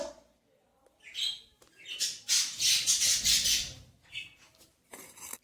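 Budgerigars squawk and chatter in a busy, overlapping burst of harsh, bright calls, fairly close, swelling in the middle and then thinning out.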